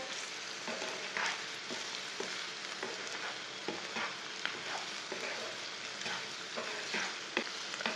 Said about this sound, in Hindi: सब मसाले डाल के 2 मिनट तक भून लेना।